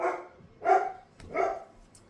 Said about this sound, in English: That dog better not be barking.